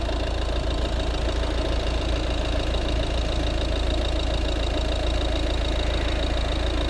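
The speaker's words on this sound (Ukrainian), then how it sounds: "Ну, Це робота двигуна." A 1.6 litre D2 diesel engine in a 2011 Volvo S40 idles steadily up close, giving a continuous low rumbling drone with a faint knocking texture throughout.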